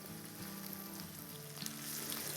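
Cumin, nigella seeds and garlic fry in hot oil for a vegetable pickle, giving a close, steady sizzle with small crackles and no talk.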